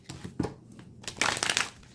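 Tarot cards are shuffled close by in a quiet room. Soft rustles and taps lead into a quick burst of riffling, papery flicks, then fade.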